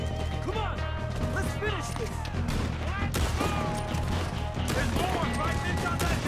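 A video game firefight plays out as dense, continuous gunfire and impacts over a steady loud rumble, with chirping effects and voices mixed in throughout.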